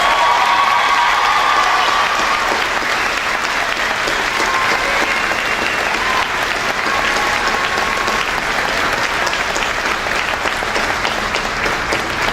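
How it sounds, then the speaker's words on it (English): Sustained, loud applause from a college commencement audience at Coastal Bend College, dense steady clapping filling the hall throughout with faint cheering mixed in. "please stand so we can all applaud your outstanding achievements"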